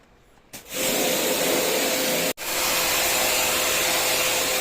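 A hot air blower aimed at an electronic board starts with a sudden whoosh, then blows in a loud, steady rush, cutting out for an instant before resuming.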